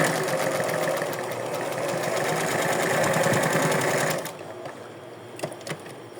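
A domestic sewing machine running a wide gathering stitch, setting 5, on doll clothing, a fast rhythmic whirring clatter for about four seconds before it stops, leaving a few light clicks and handling sounds.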